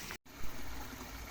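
Faint, steady trickling of a shallow stream flowing nearby, with a brief dropout near the start.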